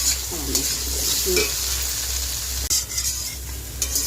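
Spices and coriander powder for a fish curry with green banana are stirred in a pan, giving a steady sizzle with scraping spoon strokes, close and fairly loud, with no talk.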